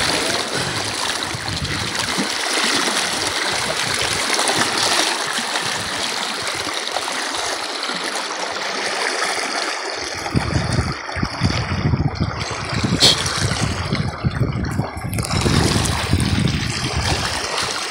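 River water rushes and flows in a constant hiss and gurgle, growing slightly rougher and more turbulent midway through, with no talking.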